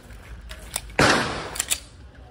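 A single sharp gunshot from an Armscor .45 pistol during blind firing cracks out at close range, a loud burst that decays over about a second, with a couple of faint clicks before and after.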